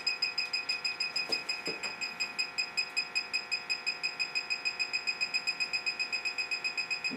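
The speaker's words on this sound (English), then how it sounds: "When it flashes like that and beeps, means we have picked up something." A handheld gas leak detector checks a Rheem furnace, giving off a rapid, steady train of high electronic beeps at close range, with a couple of faint clicks and no talking.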